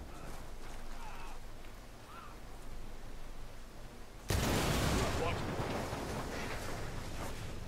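Gunfire in Ghost Recon Wildlands starts abruptly partway through, a loud sustained barrage of shots and explosive noise that follows quieter game ambience and muffled voices.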